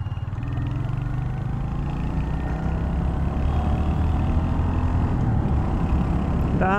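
A Royal Enfield Hunter 350 motorcycle ridden gently in fourth gear gives a steady, close engine drone. The low rumble holds an even pitch and level throughout, with no pauses or revving.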